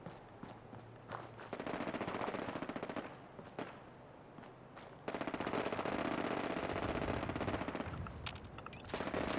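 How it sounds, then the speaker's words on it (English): Gunfire in Fallout 4 rattles in sustained bursts of rapid automatic fire, loud and dense, broken by brief pauses before resuming at full intensity. "I hear bang bangs."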